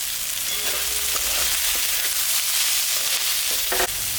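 Rice with salt and turmeric fries alongside a fish head in a pan, a loud continuous sizzle close by with a few scraping stirs and a clatter near the end.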